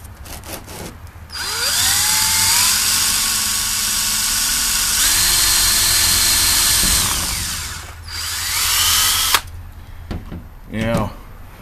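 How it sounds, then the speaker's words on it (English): A power drill whines steadily for about six seconds as it bores out a rivet on an axe sheath, its pitch shifting as the bit bites, followed by a short second burst and some clattering handling noises. "I decided to drill it out right about here"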